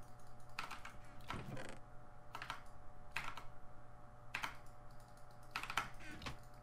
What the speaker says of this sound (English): I didn't realize how loud my keyboard is